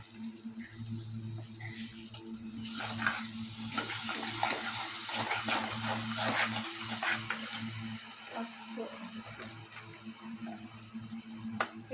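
Onions and chicken fry in a pan for a Telugu-style chicken fry, giving a steady broadband sizzle with scattered spatters and stirring scrapes throughout, close and moderately loud, with no talking.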